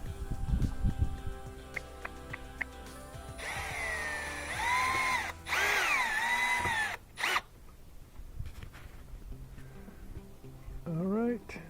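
A power drill drives screws into a wooden fascia board. Two bursts of whining motor rise and fall in pitch, with clicks and handling noise between them and a voice speaking around the drilling.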